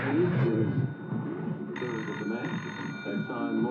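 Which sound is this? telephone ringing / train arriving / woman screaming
telephone ringing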